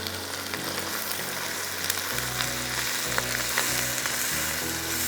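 Blended tomato puree sizzles in a hot pan for qeema, a dense, even frying hiss with a few faint stirring taps and no voices.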